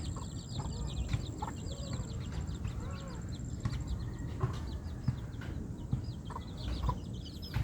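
Newly hatched chicks peep in quick, high, repeated calls over a background rustle, faint and fairly close, with occasional lower clucking.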